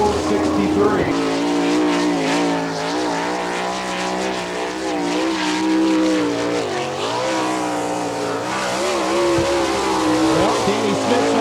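Winged sprint cars roar around the Attica, Ohio dirt oval at an All Star Circuit of Champions race, engines screaming loud and continuous with rising and falling pitch as they pass, while an announcer talks over the track noise.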